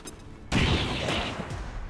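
A grenade explosion in the video game XCOM 2: Long War of the Chosen bursts in abruptly after a brief quiet moment, a loud, dense blast that rumbles on for over a second before slowly easing off.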